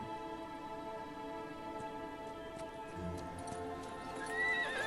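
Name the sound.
horse neighing in a video game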